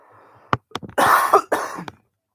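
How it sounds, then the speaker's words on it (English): A few sharp coughs up close, a couple of short hacks followed by two longer, rougher bursts, then quiet. "Sorry, I got a cough."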